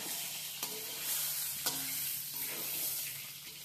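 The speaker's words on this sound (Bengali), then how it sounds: "এবার আমি লো ফ্লেমে ভালো করে চালটাকে ভাজা ভাজা করে নিচ্ছি" Rice with chopped tomato frying in a pan over a low flame for muri ghonto, a continuous close sizzle broken by a few scraping stirs of a spatula.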